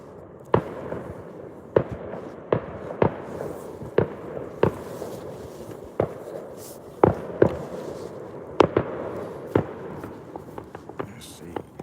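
Fireworks explode over London in a string of about a dozen sharp, moderately distant bangs at irregular intervals, some in quick pairs, over a low background murmur with faint voices.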